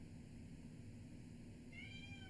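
A cat meowing behind a closed door, a short rising meow near the end over a steady low hum, faint and muffled.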